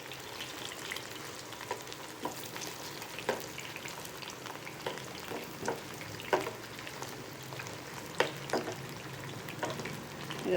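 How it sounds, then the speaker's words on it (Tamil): Chettinad-style chicken 65 pieces deep-frying in oil over a medium flame, giving a steady sizzle and crackle with scattered sharper pops and spatters throughout, close and moderately loud. "நல்லா கொஞ்சம் மீடியம் ஃப்ளேம்லேயே வச்சு இதை வறுத்து எடுப்போம்."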